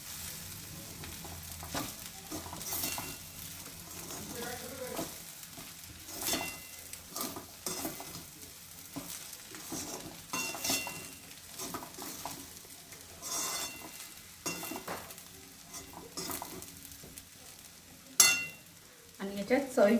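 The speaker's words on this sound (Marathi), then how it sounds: "त्याच्यामध्ये आपला हा शेंगदाणा कूट आहे तो टाकायचा। छान हा मिक्स करून घ्यायचा आपण सर्व।" Crushed peanuts being stirred into sabudana khichdi in a pan: soft sizzling with repeated scraping strokes of a spoon against the pan and occasional metal clinks, moderately close.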